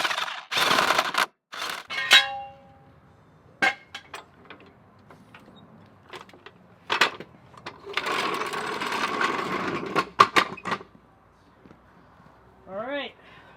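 A power tool tightens lug nuts on a wheel during a wheel mounting job, giving several short bursts of rapid ratcheting chatter broken by pauses and clanks, close by, with a voice speaking briefly near the end.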